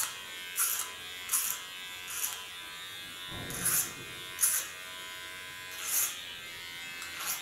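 Electric clippers shaving the side of the head for an ultra-short pixie cut, giving a steady faint buzz broken by repeated brighter bursts as the blade passes through hair, several strokes in a loose rhythm.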